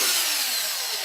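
A freshly ground drill bit bores a hole with a steady, close, high-pitched hiss and whine that fades slightly, and no one speaks.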